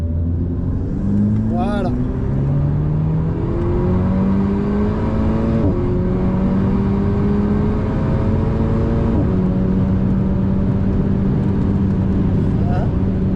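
An Alpine A110 S accelerates on a wet Spa-Francorchamps track, its engine note climbing steadily through several gear changes in a continuous loud in-car drone while someone speaks over it.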